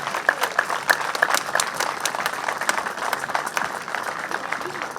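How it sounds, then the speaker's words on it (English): An outdoor crowd at a street-naming ceremony for Larry Hanley gives another round of applause, a steady, fairly close spread of clapping with a few sharp claps and faint cheers, lasting throughout. "So let's give them another round of applause."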